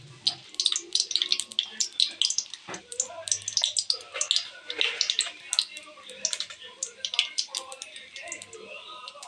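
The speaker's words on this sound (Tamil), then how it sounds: "கடுகு ஒரு ஸ்பூன் போட்டுக்கலாம்." A spoonful of mustard seeds hits hot oil in a heated pan for egg fried rice, setting off rapid, close crackling and spluttering pops that continue throughout.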